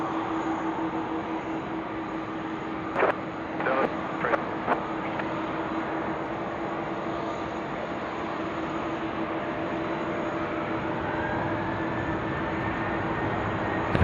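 Jet airliner departing Sydney Airport runway 16 right, a steady distant engine roar that slowly builds over the whole stretch, with a few brief knocks near the start and no talk.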